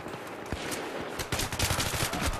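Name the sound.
AK rifle gunfire in video game Battlefield 3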